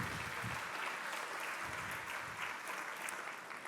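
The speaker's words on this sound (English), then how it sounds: "Round of applause." Audience applause fills a room at a Santa Fe zoning talk in a livability speaker series, an even patter of many hands clapping, fairly faint and gradually easing off.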